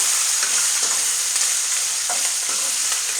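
Green chillies frying in oil in a pan while being stirred, for raw mango pulihora: an even, bright hiss of sizzling with light utensil scrapes and ticks throughout.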